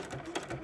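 A sewing machine stitching an ironing board cover gives a brief, faint whirring run of needle strokes.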